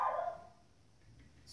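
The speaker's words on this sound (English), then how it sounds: "Sorry about the dog in the background." A dog barks once somewhere in the background of a quiet indoor room, a brief muffled yelp that fades into low ambient hum.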